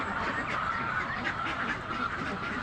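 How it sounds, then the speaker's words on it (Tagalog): Domestic ducks kept in a pen quack in a dense, overlapping chorus, loud and close, with many calls running together continuously. "Ito yung mga alaga nating mga itik"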